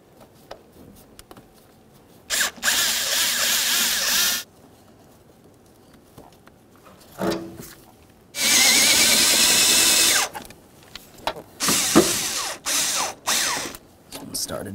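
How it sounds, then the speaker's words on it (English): A powered driver runs screws into the door sill trim panel of a 1998-2011 Ford Ranger pickup, in three separate whirring bursts of a couple of seconds each, with ratchet-like clicking and quiet gaps between, no talking. "align all four of your mounting screw holes, start each of them in, and then you can snug them up"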